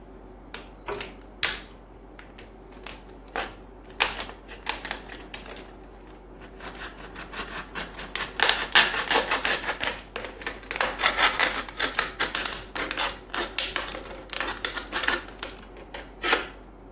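Small plastic water bottle being cut with scissors, producing a steady series of sharp crunching clicks that quicken and cluster toward the end, close and clear with no talk.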